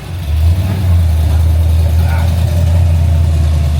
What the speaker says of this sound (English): Got Bernie's V8s here as well, so that's what all the cool V8 noise is.